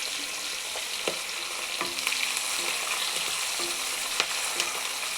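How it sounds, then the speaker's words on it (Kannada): Green chillies and curry leaves fry in hot oil for amla chitranna with a steady, bright sizzle close up. Occasional light stirring clicks sound against the pan, and no one speaks. "ಕೆಂಪಾದ ಮೇಲೆ ಹಸಿಮೆಣಸಿನ್ಕಾಯಿ ಹಾಕ್ತಾಯಿದ್ದೀನಿ"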